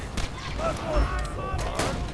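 Gunshots and a blast in the video game Borderlands 2 crack out, an early burst and a louder one later, with a voice speaking between them.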